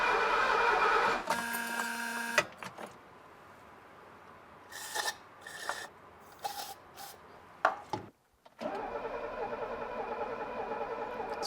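An old Mercedes engine, parked for decades, cranks over with a grinding, rasping whir in uneven bursts, separated by quieter gaps with clicks and shuffling.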